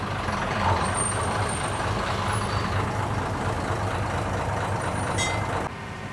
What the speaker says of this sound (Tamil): இன்ஜின் இங்கே தான் இருக்குது.